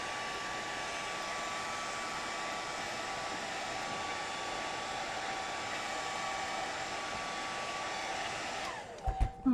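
A heat gun running on its cool setting blows air to dry a whiteout pen mark on a Gelli plate, a steady broadband whoosh held for about nine seconds before it cuts off with a few clunks.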